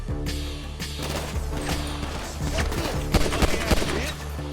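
Gunfire in the GTA video game, rapid bursts of shots and crashes over a dense, constant game soundtrack, loud and close, with no clear talking.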